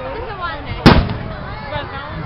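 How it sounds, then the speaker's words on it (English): A single loud firework burst cracks sharply against steady background noise, with people talking around it. "this is one Amy, fireworks, fireworks."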